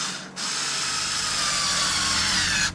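Black & Decker cordless screwdriver, converted to a new battery, with its small motor whirring steadily for about two seconds, close and alone, starting and stopping abruptly.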